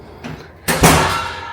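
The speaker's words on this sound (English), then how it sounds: "Oh, that's a noisy spring." A villa lock-off door at a Walt Disney World resort, fitted with a noisy spring, swings open with a soft click and then a louder, sustained rush of motion close by.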